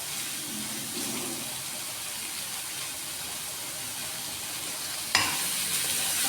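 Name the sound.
stirring vegetables with Knorr cube in a pan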